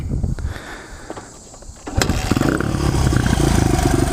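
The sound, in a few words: motorcycle engine idling at low RPM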